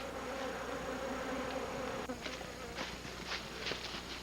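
Honey bees buzz around an opened hive as supers are lifted off, a steady close drone with individual bees whirring past, plus occasional light knocks and handling noises.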